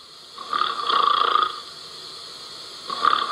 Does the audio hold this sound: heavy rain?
no